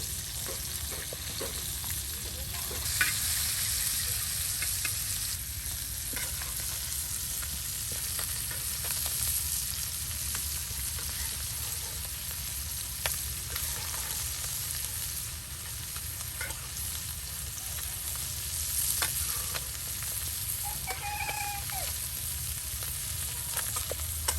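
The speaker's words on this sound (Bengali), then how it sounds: "এই যে ভাবি আপনার মাছ ভেজে নিচ্ছে" Fish frying in a pan in a home kitchen, giving a long, even sizzle close by with scattered small pops and clicks and no talking.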